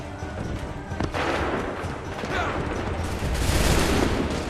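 Musket volleys crackle in Assassin's Creed 3, a dense sustained barrage of shots loud and near, with battlefield commotion and shouted voices underneath.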